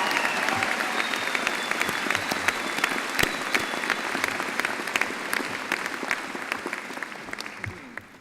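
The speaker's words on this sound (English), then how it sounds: "I think she deserves another round of applause." Sustained audience applause at a Birmingham City University graduation ceremony, a dense steady clatter of many hands clapping in a large hall, holding level throughout before tapering slightly at the end.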